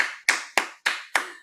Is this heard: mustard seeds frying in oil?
no